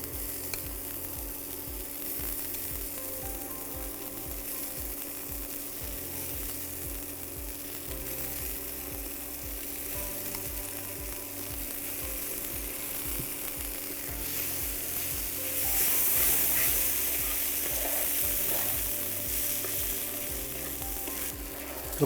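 Corn kernels sizzle steadily in a hot pan with onions and a touch of turmeric, the frying hiss continuous and close while occasional stirring scrapes and knocks join in, growing slightly louder toward the end.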